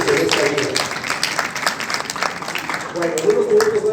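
An audience at a university conference applauds a volunteer, a burst of clapping heard under and between a speaker's voice, which carries on throughout.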